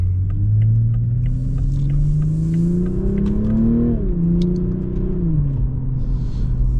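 A Toyota A91 GR Supra driving, its engine note rising steadily under acceleration, dipping at a gear change and climbing again, close and loud inside the car with a steady road rumble beneath.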